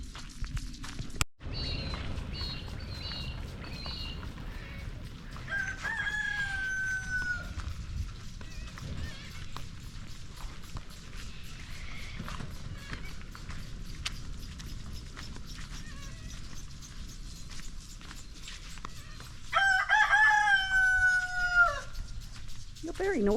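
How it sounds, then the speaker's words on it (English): Chickens and a rooster at Lake Marianne, with a loud cock-a-doodle-doo crow ringing out twice, once early and again near the end, over steady clucking and barnyard noise. "I've got to show you the chickens."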